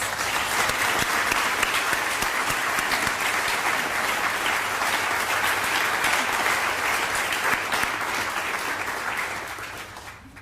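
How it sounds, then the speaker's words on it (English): A large crowd claps for Teacher of the Year nominees, a loud, even roar of hands that holds steady and fades out near the end. "Let's please give all of our nominees a round of applause."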